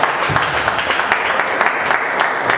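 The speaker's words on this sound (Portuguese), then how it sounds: "E que as palmas louvem a Deus" A church congregation applauds in praise of God at the close of a worship service, loud continuous clapping throughout.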